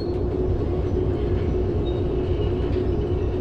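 A locomotive running in the train game Derail Valley gives a steady, loud low rumble with faint clickety-clack underneath, continuous throughout and without talk.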